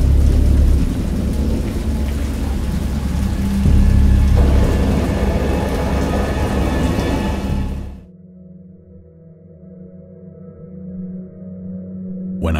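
Heavy rain and rumbling thunder from the horror game Dagon, a loud, dense storm roar that cuts off sharply after about eight seconds, leaving a faint low hum and a few quiet rustles.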